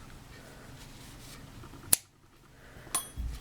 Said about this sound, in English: I'm going to cut this tail off completely.